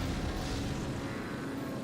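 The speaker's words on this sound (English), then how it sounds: "because the plane speeds up" A plane's engine roars steadily in James Bond 007: Nightfire, a dense, loud, continuous drone with no breaks or talking.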